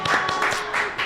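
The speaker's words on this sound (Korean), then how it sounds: "큰 박수로 한번 격려해 주십시오." Audience applause at a church fellowship gathering, a short burst of dense clapping from a room of people, steady and fairly loud throughout.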